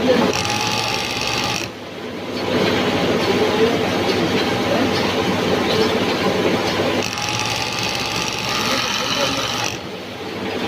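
A sock toe-stitching machine in a sock factory runs with a loud, steady mechanical whir and rattle, briefly dropping in intensity twice before resuming; voices are talking over it.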